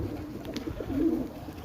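A single soft pigeon coo rises briefly out of quiet background noise during feeding time.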